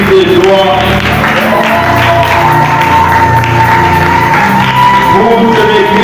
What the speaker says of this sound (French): Nous acclamons pour l'Esprit de Dieu.